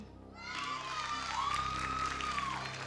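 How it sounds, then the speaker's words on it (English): Audience applause rolls steadily through a hall at the Miss Seychelles 2020 national pageant, a sustained clapping crowd with a faint tonal sweep running through it. "Another round of applause for the finalists."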